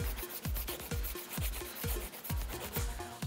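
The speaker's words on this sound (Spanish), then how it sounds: "Una vez que terminamos de limar" A nail file rasps across the surface of a fingernail in steady, rhythmic back-and-forth strokes, close and fairly quiet, with no voice over it.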